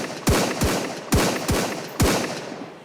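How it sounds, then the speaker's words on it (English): A semi-automatic rifle fired in the video game Sunkenland: five sharp, loud single shots at a steady pace about half a second apart, each trailing off in a short echo. "Dump a clip in, see what the recoil's like and the firing rate here"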